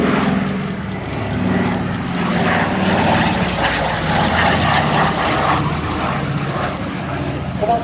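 A Douglas Dakota III C-47, serial KP220, drones past at the Headcorn Battle of Britain Airshow, its twin piston propeller engines giving a steady, loud, throaty roar that holds through the whole pass.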